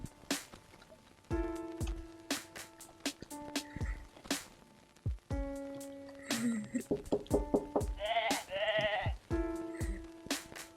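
A goat in a cat detective adventure game bleats several times in quick, quavering calls, mixed with short thuds and stepping sounds against looping game tones; a voice is heard briefly.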